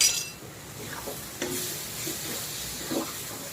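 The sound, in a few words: dry spices stirred into sizzling masala in pan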